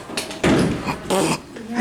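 An Otis Series 1 hydraulic elevator door at the Hotel Roanoke in Roanoke, VA bangs shut with a loud, close thump, followed by a second heavy knock about half a second later amid low room noise.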